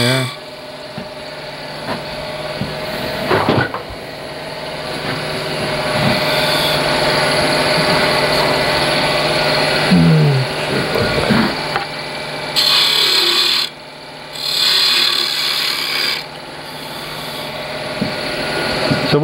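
Power tool cutting grooves into a wooden balance tray in a workshop, running in sustained whining bursts with brief pauses and a couple of short stops, while someone talks over it.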